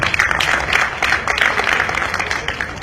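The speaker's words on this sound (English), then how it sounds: "A big round of applause for you." Audience applause at an invited talk on telecom and IT job opportunities, a dense, steady patter of clapping across a hall, moderately loud and continuous throughout.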